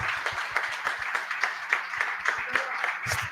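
Conference audience at a Plone Foundation membership meeting gives the marketing team a round of applause, a steady patter of many hands clapping throughout, with a sharper burst of claps near the end.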